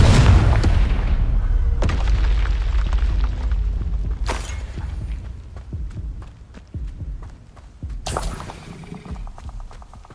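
Loud booming blasts from the Confringo spell in the video game Hogwarts Legacy, a heavy explosion opening the stretch, followed by repeated deep thuds and fresh bursts around the middle and near the end.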